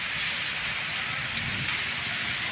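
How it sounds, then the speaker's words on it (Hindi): Light drizzle falls steadily, a soft continuous hiss of fine rain on surfaces without breaks, heard alone with no voices. "देखा कि बारिश आ रही है। पानी की है नहीं, पर बारीक बारीक सी आ ही रही है बारिश।"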